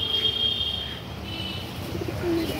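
Old-generation Madrasi pigeons cooing softly, a few low murmuring coos rising against a quiet room background, with a thin high tone early on, nearby and gentle.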